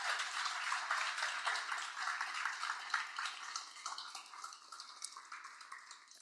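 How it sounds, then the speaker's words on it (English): Audience applause at a dedication ceremony for a university entrepreneurship center, a steady wash of clapping hands that holds throughout and slowly thins toward the end, heard from within the room. "Can you join me in a round of applause?"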